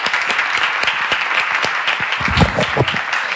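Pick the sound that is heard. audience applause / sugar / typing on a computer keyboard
audience applause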